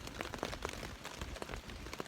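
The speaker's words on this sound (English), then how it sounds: "as you can hear, it is raining, and it has been raining since just after lunch" Rain pattering on a backpacking tent during a wilderness hike on the Appalachian Trail in Maine, a faint, dense, continuous patter of drops with no talking.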